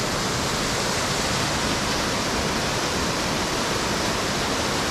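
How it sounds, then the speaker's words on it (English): The River Breamish rushes in a steady, loud, unbroken roar of flowing water on a wintry walk, with nothing else heard over it. "I think this is River Breamish."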